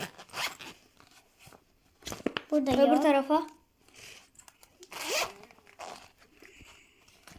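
A pencil case zipper is pulled open once in a short, bright rasping burst, close by, with children talking before and after it.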